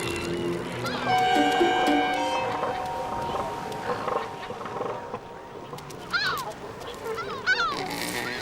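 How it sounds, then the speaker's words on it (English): Kelp gulls call in sharp, rising cries later on, over a busy bed of seal colony noise and overlapping voices at a Patagonian seal birthing site, moderately close and loud. "As a newborn seal takes its first breaths, kelp gulls move in."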